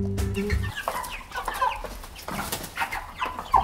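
Farm chickens clucking in short, bursty calls close by, with a brief musical tone at the start and no speech.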